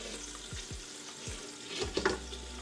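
Pork carnitas frying in a pot of fat, a steady close sizzle with crackles and occasional pops and a few soft scraping stirs.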